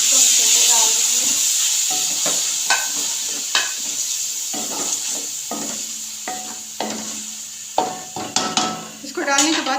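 Finely chopped tomatoes tipped into a pan of fried garlic for karela pyaz, sizzling steadily with repeated sharp stirring and scraping knocks up close.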